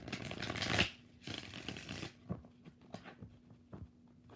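Tarot cards are shuffled quietly and up close in short riffling bursts: two longer runs followed by several quick snaps, with a faint steady hum underneath.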